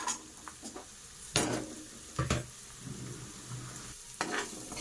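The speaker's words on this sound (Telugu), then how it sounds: "ఇవి కొంచెం ఫ్రై అవనివ్వటామండి." Vegetables including onions frying for veg manchurian, a soft steady sizzle in a pan broken by several louder scraping stirs with a spoon, close by and alone.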